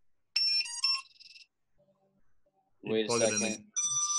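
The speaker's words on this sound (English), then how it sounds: "those three beeps tells you it's disarmed" Electronic beeps from an FPV drone signalling it is disarmed, loud and close, in short tonal bursts at the start and again at the end, with a person speaking briefly in between.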